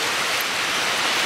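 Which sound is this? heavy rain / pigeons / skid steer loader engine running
heavy rain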